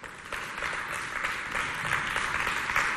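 An audience at a community coordination event applauds the HR director. Moderate clapping runs steadily for several seconds at a middling distance.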